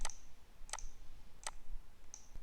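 A computer mouse clicks four times at roughly even intervals on a Windows Server machine, each click crisp, close and quiet against faint background hiss.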